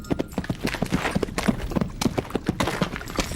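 Horses' hooves clip-clop in a steady walking rhythm, the repeated knocks of several animals overlapping at close to moderate distance over a background hum.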